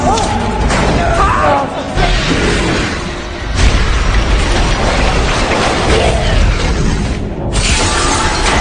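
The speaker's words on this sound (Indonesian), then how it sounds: "ledakan tersebut terasa sampai ruang dansa" A loud, sustained roaring explosion aboard a sinking luxury ship in a film, with crashing and rumbling debris, dense and continuous across the whole stretch, briefly dipping before surging again.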